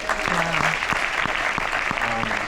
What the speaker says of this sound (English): Jojo Colejo, who also deserves a huge round of applause